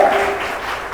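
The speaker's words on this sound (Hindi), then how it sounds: "सबसे ताली बजाएंगे यीशु के लिए" Church congregation clapping together, a dense continuous wash of applause filling the brief moment without pause.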